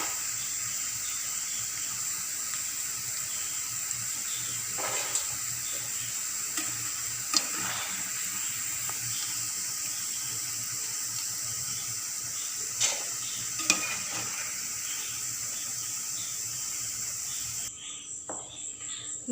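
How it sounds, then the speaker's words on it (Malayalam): Soya chunks fry in oil over a medium flame, giving a steady, close hiss and crackle that runs unbroken, with a few sharp pops and stirring clinks scattered through it. "മീഡിയം ഫ്ലെയിമിലിട്ടിട്ട് നമുക്കിതൊന്ന് പൊരിച്ചെടുക്കാം."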